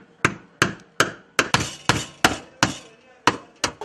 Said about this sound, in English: This one gets the hammer and the screwdriver right through the back